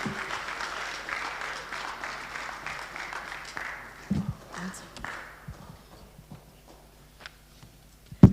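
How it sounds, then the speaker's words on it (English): Hand clapping from a church congregation during a Shona service, a dense, steady wash of applause for the first half that thins out into scattered claps and shuffling, with some voices beneath. "Clap hands for her as she comes to the stage."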